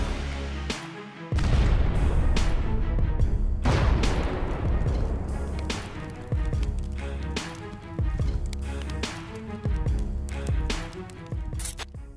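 Explosions from airstrikes on Russian targets, a series of heavy, loud booms and blasts that repeat in close succession over a continuous rumbling background.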